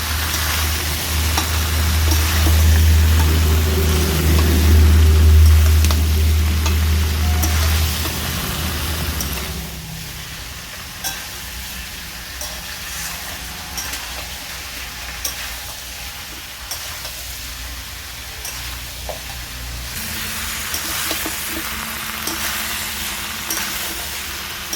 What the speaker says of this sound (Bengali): সব সবজি আমি ভালো করে নেড়ে চেড়ে নিয়েছি।